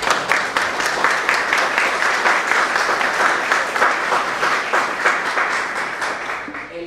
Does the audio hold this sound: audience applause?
yes